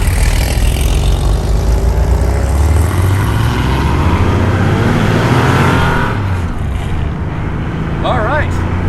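A 1986 Porsche 911 backdate's engine drones steadily while driving, loud and close with road and wind roar, its pitch shifting as the car accelerates.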